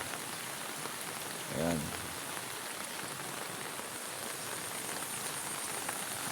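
Steady, dense rain hisses throughout during a heavy downpour in Morong, Rizal, with a brief faint voice-like tone rising midway over the continuous rain.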